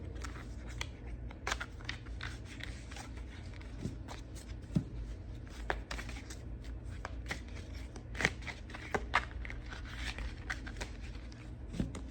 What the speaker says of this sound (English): We're going to pull out one last card here from the Forest Oracle.